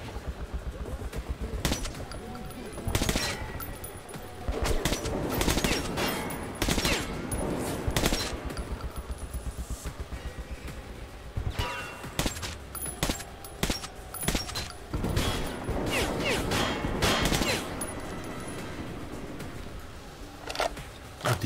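Dense, rapid gunfire in the post-apocalyptic shooter Metro 2033, loud, close bursts of automatic fire with brief pauses and scattered single shots continuing throughout.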